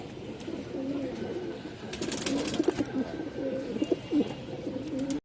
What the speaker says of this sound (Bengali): এটা কালো ঠোঁটের নর কালদম দর্শক, কালো ঠোঁটের কালদম নর।